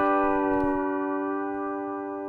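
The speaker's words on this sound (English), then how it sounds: "What I like to do here though is to get a nice little neck bend in." A guitar chord rings out loud and close while the neck is bent, so the strings slacken and the pitch sags slightly as the sound slowly decays, with a faint tap partway through.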